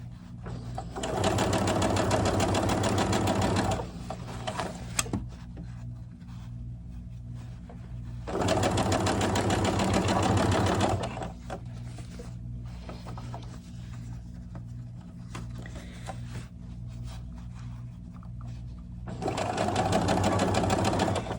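Sewing machine stitching the seam of an 18-inch doll T-shirt: three loud, close bursts of rapid mechanical whirring separated by quieter stretches of handling and faint motor hum.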